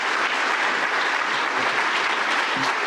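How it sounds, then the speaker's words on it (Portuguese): Dense, steady applause from a large standing audience at a ceremony, continuous clapping filling the hall without pause, with faint shouts mixed in. "em pé e efusivamente, ovacionou com palmas e gritos"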